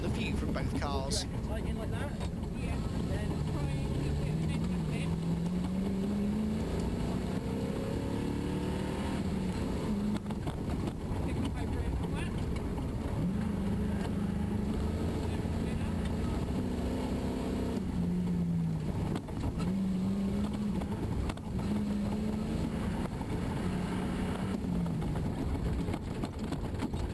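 Onboard rally cars on a stage at Tiverton, engines roaring loud and close throughout with rising and falling revs as the drivers shift and brake, a constant mechanical drone and road noise filling the whole stretch.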